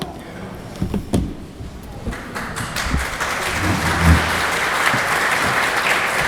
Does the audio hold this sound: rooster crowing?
no